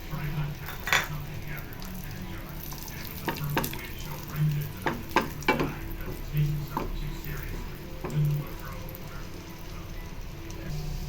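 Cashews and raisins frying in hot butter in a pan, a steady sizzle with clinks and stirring scrapes of a spoon against the vessel, close and fairly loud, with a person talking over it.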